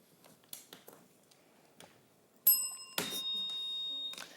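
A quiz show buzzer bell at a Jamaican schools' challenge sounds sharply at about 2.5 seconds, then a longer ringing tone sustains toward the end, following faint taps and rustles.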